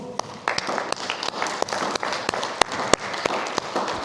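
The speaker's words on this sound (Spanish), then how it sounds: "Vamos a dar un aplauso al Señor" A church congregation gives applause to the Lord, a dense, fairly loud wash of clapping with several sharp individual claps standing out near the listener.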